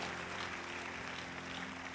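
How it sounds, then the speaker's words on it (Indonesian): Church congregation clapping together, a dense, continuous wash of applause filling the room, steady and moderately loud throughout. "Beri tepuk tangan dulu yang meriah buat Tuhan."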